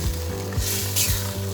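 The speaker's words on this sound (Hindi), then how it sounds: "चिकन की थोड़ी सी भुनाई करेंगे" Marinated chicken tikka masala pieces and whole potatoes fry in a pan with a continuous close sizzle and brief stirring scrapes, with no voices.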